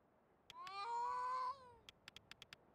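A cat in the video game A Space for the Unbound gives one long, drawn-out meow, set between a few short, sharp clicks, with no voices.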